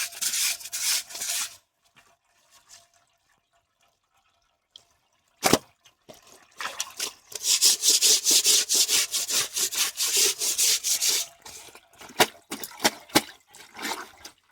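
Clothes hand washed at home, rubbed and scrubbed in water while dye bleeds from the fabric. A few scattered strokes give way to a long run of rapid, close rhythmic scrubbing, then more irregular rubbing.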